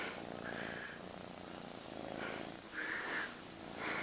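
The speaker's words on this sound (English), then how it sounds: "You're purring up a storm." A cat's low, continuous purr rumbles up close, rising and falling with its breathing, with no talking.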